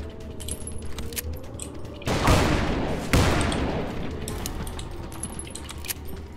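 A sudden pair of close gunshot blasts with ringing decay in the Call of Juarez video game on PC, set among quieter metallic game ambience and scattered clicks, no one talking.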